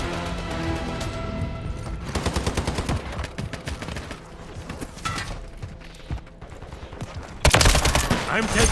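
Call of Duty combat: rapid automatic gunfire bursts, loud and close, with mechanical weapon clatter, a heavy blast near the end and shouted voices mixed in.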